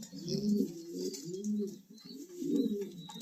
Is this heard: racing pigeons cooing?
yes